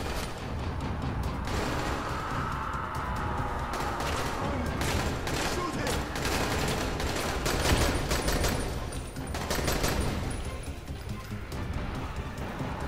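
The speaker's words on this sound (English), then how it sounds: "this is like a three-shot type gun" Gunfire from a three-round burst weapon in the video game Dying Light 2, with rapid volleys running steadily across the whole stretch over dense game background noise, and a voice talking faintly beneath.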